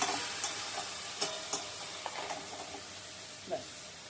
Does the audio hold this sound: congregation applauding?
no